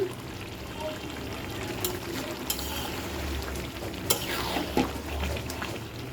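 Rinse water from a washed bowl poured into goat meat cooking in a pot, a steady trickling pour with faint sizzling underneath, a few clinks of the vessel, and a quiet voice in the background.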